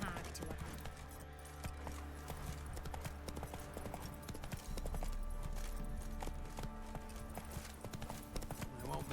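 Hooves of Roach, Geralt's horse in The Witcher 3: Wild Hunt, beat a steady, rapid galloping clip-clop throughout. The sound sits over a dense game soundscape, with a voice talking at times.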